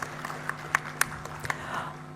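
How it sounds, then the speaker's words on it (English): A convocation audience at a postgraduate ceremony gives sparse, scattered claps, a few sharp isolated hand claps over a low steady hum in a quiet hall. "let's give her a big round of applause for her well wishes"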